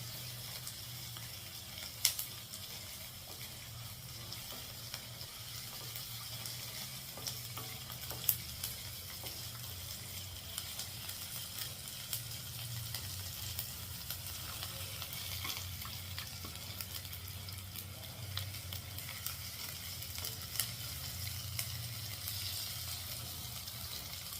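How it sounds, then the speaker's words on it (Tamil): Onion and garlic sauté in a pan for a sambar, giving a soft, steady, low-level sizzle that continues unbroken, with occasional faint clicks of stirring. "வெங்காயமும் பூண்டு சேர்ந்து வதங்கும்"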